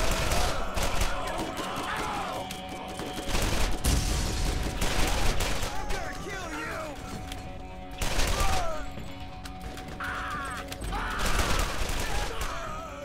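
Pistol gunfire from the video game Borderlands: repeated bursts of rapid shots recur throughout, loud and close, mixed with game effects and some talk.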